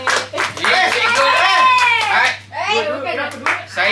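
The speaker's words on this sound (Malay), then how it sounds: "Jadi berikan tepukan untuk guru tahniah ini." Schoolchildren in a classroom clap for their teacher, quick bursts of hand claps mixed with children's excited voices and giggles close by.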